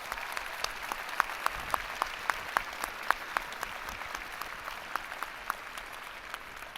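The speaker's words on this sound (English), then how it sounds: "Let's give family and friends a big round of applause." Commencement audience applauding for graduates' family and friends, a steady wash of clapping from a large crowd with scattered sharper individual claps, sustained throughout without speech.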